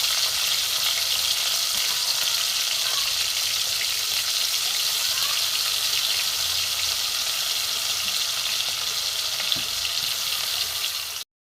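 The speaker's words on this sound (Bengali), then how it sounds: "পেঁয়াজ রসুন ভাজা হয়ে গেছে" Chopped garlic and onion sizzle and fry steadily in a hot pan, a dense, continuous crackle filling the whole stretch with no talk over it.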